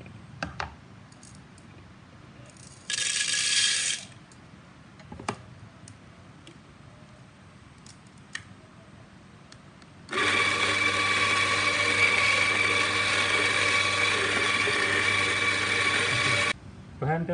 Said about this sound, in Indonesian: Baik, kita giling sekarang.